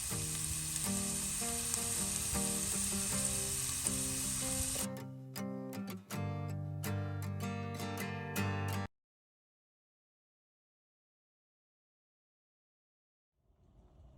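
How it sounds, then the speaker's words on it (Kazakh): Onion and carrot fry in a hot pan with a loud, dense sizzle, which drops to a lighter crackle with stirring before cutting to silence, then faint sound returns at the end. "Біз оған дейін қызып тұрған табаға пияз бен сәбізімізді қуырып аламыз."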